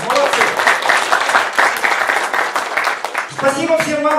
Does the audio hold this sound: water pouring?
no